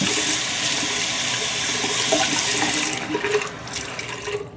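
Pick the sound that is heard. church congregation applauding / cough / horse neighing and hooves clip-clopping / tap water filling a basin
tap water filling a basin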